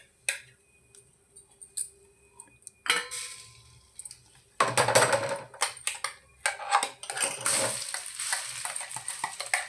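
Ground raw mango chutney stirred into hot tempering oil in a pan with the heat off, scraping spoon strokes and clinks against the pan alongside a soft sizzle, starting sparse and then turning into busier, louder stirring.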